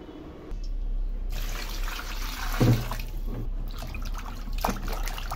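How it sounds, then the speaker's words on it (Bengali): Tap water runs steadily into a sink as cut hilsa fish are washed, with a dull knock partway through and light splashing toward the end. "মাছটা এখন ধুয়ে নিচ্ছি।"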